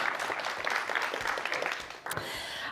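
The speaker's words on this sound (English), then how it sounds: "One more round of applause." Audience applause after a startup pitch at the Aalto Creatives Demo Day, dense and steady for about two seconds before thinning out abruptly near the end.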